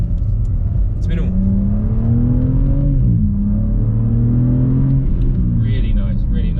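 Cabin drone of a BMW G81 M3 Touring fitted with a Remus OPF-back exhaust, valves closed, heard from inside: a steady low engine hum whose pitch climbs, dips sharply and climbs again as gears change, with faint talk over it.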